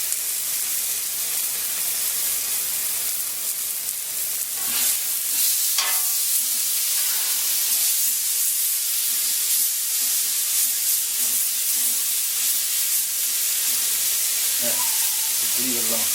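Hamburger patties sizzle steadily on a Blackstone flat top griddle, a loud, close, constant hiss with occasional scraping and spatula knocks.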